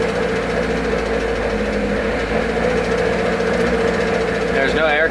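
A turbocharged Honda Civic engine idles steadily with a low, even rumble and faint vibration, close and continuous, with a voice briefly speaking near the end.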